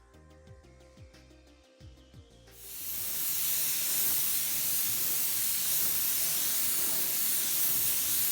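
Duplicolor UV-resistant clear coat for plastic sprays onto a car headlight in a loud, continuous aerosol hiss that starts abruptly after some quieter clicks and knocks, then holds steady to the end.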